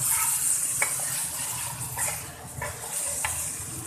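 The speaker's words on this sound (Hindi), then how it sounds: "थोड़ा सा फ्लेम को तेज करेंगे थोड़ा इसको फ्राई होने देंगे" Gurda (goat kidney) frying in a pan over a high flame, with a constant crackling sizzle broken by several short scraping stirs.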